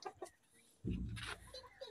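Domestic hens kept on a balcony give a few short, faint clucks, with a brief louder rustling burst partway through.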